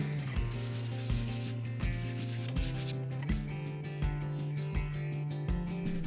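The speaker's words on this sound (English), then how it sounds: "we're going to do a light sanding with some 320" Close, steady sanding strokes, a repeated rhythmic rasp of 320-grit sandpaper rubbed back and forth lightly over a smooth polyurethane-coated surface between coats, with no voices.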